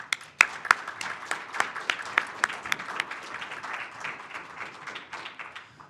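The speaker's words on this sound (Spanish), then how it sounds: "Y un aplauso para ellos, por favor." An audience at a panel forum applauds the panelists, sharp individual claps standing out at first, then settling into a steady, moderately loud round of clapping.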